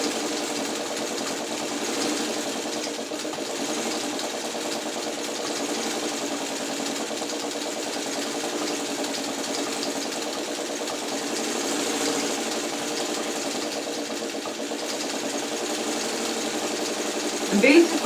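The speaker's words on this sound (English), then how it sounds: "we're just going to quickly go through the top stitching at 1/8 to 1/16" A sewing machine top stitches close to the edge of a fabric circle on a churn dash appliqué quilt block, giving a steady, continuous mechanical hum at moderate volume throughout.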